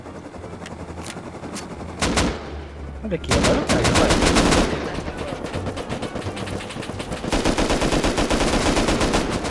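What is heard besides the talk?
gunfire in the video game Rust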